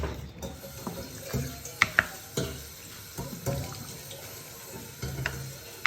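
Water poured from a tap or jug into a pot of washed rice being cooked for egg biryani, splashing and trickling close by with a few sharp clinks of metal, no voices.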